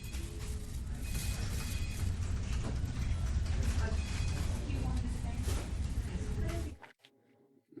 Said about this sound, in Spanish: Murmullo de charla.